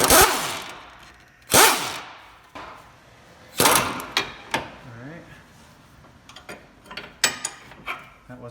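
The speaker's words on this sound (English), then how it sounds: "I'm going to try to just go for the gusto with the impact gun, just to get it out of the way." An impact gun hammers at a stabilizer link nut on a Honda Pilot front end, several sharp loud rattling bursts with metallic clicks and clanks between them, close by, no speech.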